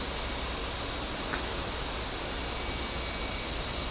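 In the DCS flight simulator, an A-10C jet engine spools up from startup, producing a steady, fairly quiet hiss and whine that holds evenly for several seconds without voices.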